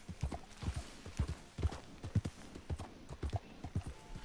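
A horse walks in Red Dead Redemption 2, its hooves clopping in a steady, even rhythm of clear close thuds throughout, with brief low talk.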